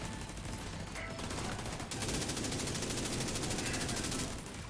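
Sustained rapid automatic gunfire from a first-person video game shooter, loud and continuous with a brief break partway through before the dense burst of shots resumes and carries on to the end.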